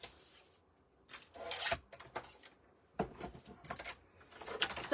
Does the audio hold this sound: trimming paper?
yes